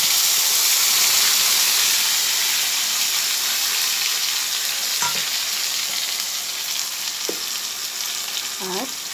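Masala for a hilsa fish kalia sizzles loudly as tomato, ginger and chili paste are sautéed in hot oil, a dense continuous frying hiss broken by a few soft spatula scrapes toward the end.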